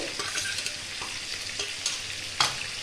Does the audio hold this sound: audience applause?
no